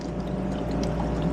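Excess water drains and trickles from soaked rice agitated in a basket during restaurant horchata prep, a steady, soft, close pouring rush lasting throughout.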